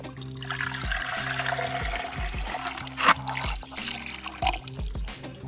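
Water pours and trickles into a bathroom floor trap drain, a steady gurgling stream with a few louder splashes, over a faint tonal background.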